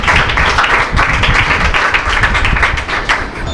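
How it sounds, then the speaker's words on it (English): Steady, loud applause from an audience at a school event fills the whole stretch, dense clapping without pause and no voices heard over it. "Claps for him."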